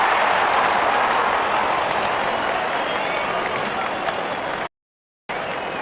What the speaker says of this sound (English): the crowd cheering in anticipation.